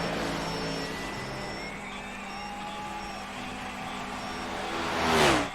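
Race car engine droning steadily on an asphalt oval during a qualifying lap, then swelling into a louder pass near the end, heard over crowd or track ambience with no talk.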